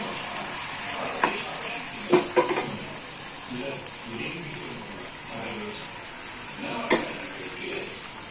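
Oil drizzled around a dosa on a hot pan gives a steady, fairly faint sizzle, with a few brief clinks and scrapes along the way and no talking.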